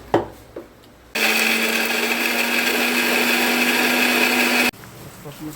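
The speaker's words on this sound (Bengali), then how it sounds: "মিক্সারে মিক্স করবো।" A kitchen mixer grinder blends a salted mixture, starting abruptly after a few light clicks and running as a loud, steady motor whir for about three and a half seconds before cutting off sharply.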